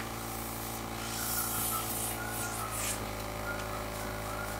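An airbrush sprays burgundy eyeshadow makeup onto a tissue, giving a steady close hiss with a faint mechanical hum beneath it that keeps going throughout, with no one speaking.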